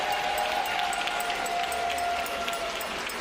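Steady crowd applause at a 40th independence gala for the Permanent Mission of St Kitts and Nevis to the United Nations, dense and continuous, with a faint whistle-like tone running through it.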